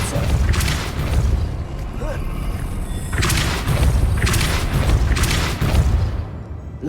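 Depulso force spell cast in the video game Hogwarts Legacy: loud booming thumps and blasts, several heavy impacts in succession, close and dominant.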